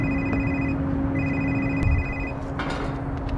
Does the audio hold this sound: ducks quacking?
no